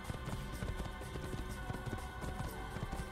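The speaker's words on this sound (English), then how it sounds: "Man, this horse has some serious parkour skills." Horse galloping in Assassin's Creed, its hooves beating a quick, rhythmic clip-clop against a steady background hum, close and continuous with no talk.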